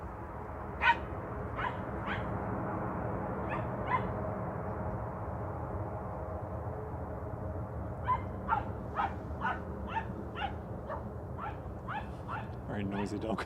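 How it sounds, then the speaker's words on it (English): A dog passing by near an airport plane-spotting spot barks and yips in scattered bursts, first a few, then a busier run of barks at the end, over a steady low background rumble. "Very noisy dog."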